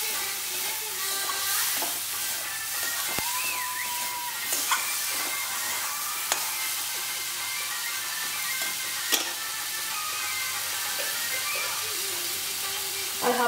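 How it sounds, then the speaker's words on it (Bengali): Turmeric and chili powder sizzle and fry in a hot pan with oil, a steady close hiss running throughout with a few clinks of a spoon or spatula against the pan. "এক চামচ হলুদ, 1 চামচ শুকনো লঙ্কার গুঁড়ো দিয়ে আমি এটা একটু ভালো করে কষিয়ে নেব"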